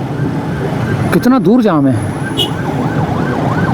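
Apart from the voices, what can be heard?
ambulance sirens in a traffic jam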